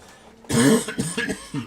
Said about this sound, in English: bear with me with my coughing today.